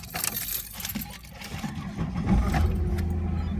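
A Holden Commodore engine cranks and catches, then settles into a steady low idle that grows louder and more constant toward the end, with light mechanical clatter over it.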